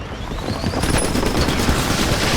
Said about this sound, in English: Nice shooting, Marine.